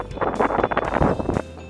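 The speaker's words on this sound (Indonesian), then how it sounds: "Jadi ini angin banternya banget, langsung miring ngiri." Strong gusts buffet the microphone outdoors while a small, colorful cotek mini kite from Bali flies, a loud, rough roar that surges and churns for over a second before dropping off.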